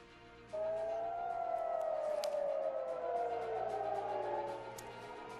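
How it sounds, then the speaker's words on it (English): Air raid sirens wail across Israel's cities of Tel Aviv, Haifa and Jerusalem, with several overlapping tones rising and falling in a steady, sustained howl that starts abruptly and holds at moderate loudness, with no voices. "The sirens going off in Israel, in Tel Aviv, Haifa, Jerusalem"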